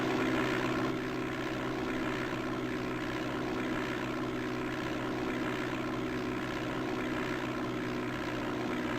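Propeller aircraft engine droning steadily at takeoff power in the Flight Simulator 5.1 game, a constant loud hum with harmonic bands and no voices, departing Minneapolis-St Paul International.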